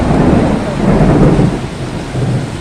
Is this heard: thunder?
yes